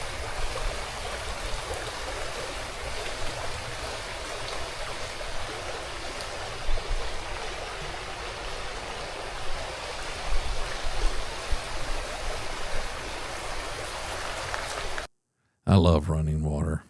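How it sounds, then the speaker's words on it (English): Steady broadband rushing of a flowing stream beside the DeSoto Multi Purpose Trail in Hot Springs Village, continuous and fairly loud throughout, cutting out briefly near the end before resuming. "I'm going to shut up and let you listen to this water."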